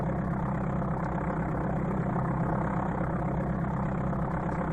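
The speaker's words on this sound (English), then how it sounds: "the sound effect for the engine is just like the one that you hear" Steady, droning propeller-plane engine hum from the Amiga Flight Simulator II game, constant and loud throughout with a low rumbling buzz, no voices.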